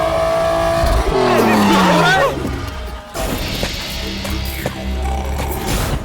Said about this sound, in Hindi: ऐसे मस्ती में गाड़ी से लेकर आ रहा है।